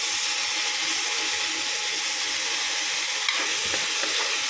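Tomatoes frying in a pan for sarciadong bisugo, a fish dish, with a loud, steady hiss of sizzling oil and a single sharp utensil tap partway through.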